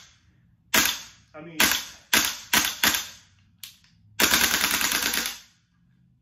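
A gas blowback airsoft rifle running on CO2 fires single shots in freezing cold, about nine sharp, loud close cracks spaced irregularly, ending in a longer burst, with a voice counting briefly between shots.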